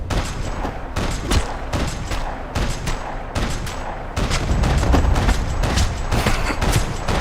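Gunfire in Max Payne 3 crackles in dense, loud volleys of overlapping shots and impacts, growing heavier toward the end, with no speech over it.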